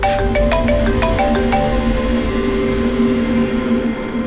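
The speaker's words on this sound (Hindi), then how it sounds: "डॉक्टर सालुंकी का फोन था, हमें फॉरेंसिक लैब में बुलाया।" A mobile phone rings in a tense detective drama scene, a repeating electronic ringtone pattern sounding loud and close against a steady background hum, with no talk over it.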